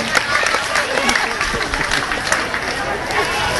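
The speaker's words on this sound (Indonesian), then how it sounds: "Tepuk tangan untuk pemenang pesan berantai." Crowd applause for the chain-message contest winners at a school orientation event at SMPN 14 Depok, a steady, dense wash of clapping with crowd noise and voices mixed in throughout.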